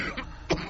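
A single short cough rings out close by at a lively outdoor carnival during a solar eclipse gathering in Rochester, preceded by a fainter throat-clearing burst against a busy background.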